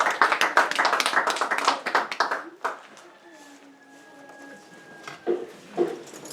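A church congregation applauds in a brisk burst of dense clapping that fades after about three seconds, followed by a quieter stretch with a sustained tone and scattered claps returning near the end.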